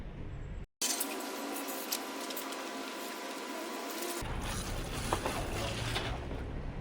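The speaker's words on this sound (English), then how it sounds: "let's rinse it down and see what is the progress" Water sprays hard against a car's engine bay in a continuous hissing rush, briefly cut off near the start, then resuming with a rougher spattering tone.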